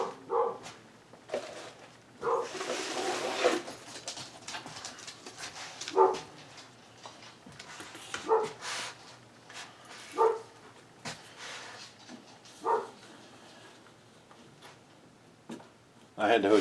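Dogs barking at a distance, a single bark every couple of seconds, faint and under a person talking nearby.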